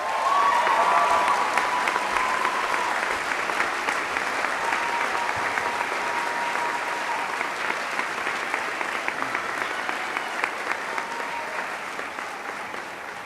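Sustained applause from a graduation audience at a university commencement, a dense wash of many hands clapping steadily for the full stretch and fading slightly toward the end.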